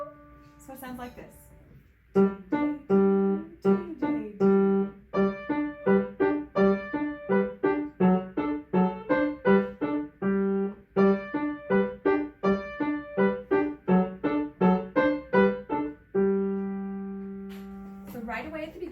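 Piano plays an accompaniment pattern alternating tonic and dominant chords, a steady run of evenly spaced repeated notes with a held chord near the end, clear and close with no talk.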